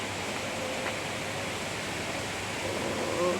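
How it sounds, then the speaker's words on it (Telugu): River water released from a power plant rushes past below in a steady, broad hiss. The flow is constant and moderately loud, with no break or change across the stretch. "ఇది నది, కిందికి వెళ్ళే నది"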